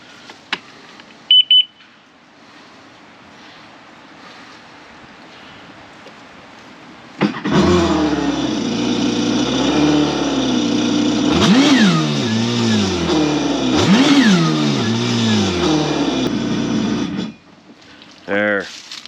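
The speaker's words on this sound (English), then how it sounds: "So start the engine. We're just gonna, not for very long, 30 seconds or so, give her a shot or two of fuel" A 2022 Kawasaki Ultra 310 jet ski engine starts during a cooling-system flush and runs for about ten seconds, loud and close with a few rising revs, then cuts off after brief beeps.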